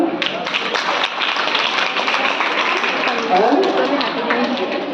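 A room of schoolchildren claps loudly in a dense, lively burst, with voices and chatter mixed into the applause throughout.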